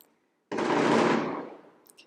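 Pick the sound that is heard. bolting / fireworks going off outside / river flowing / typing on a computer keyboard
fireworks going off outside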